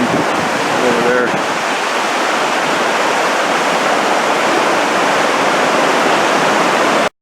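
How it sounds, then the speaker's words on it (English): Rushing river water at the Ledges in Grand Ledge, Michigan, a loud, steady broadband roar heard close, with a faint voice briefly at the start. "Look at that water rushing."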